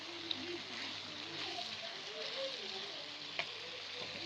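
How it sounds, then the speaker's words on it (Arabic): Peppers frying with onions in a pan for Alexandrian-style liver make a quiet, steady sizzle, with a faint voice murmuring over it and a couple of small clicks from the pan. "نحط بقى ايه الفلفل بتاعنا كده"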